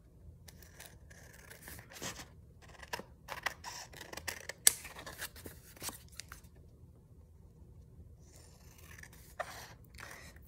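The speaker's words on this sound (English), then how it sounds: "these other sides that need a little bit more care, I'm gonna do with my scissors." Scissors snipping through junk journal pages by hand, a series of quiet crisp cuts and paper rustles close up, alone without talk, with short pauses between bursts.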